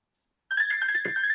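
A mobile phone ringtone starts abruptly and plays a bright, sustained electronic melody nearby in a quiet boardroom during a property revision hearing.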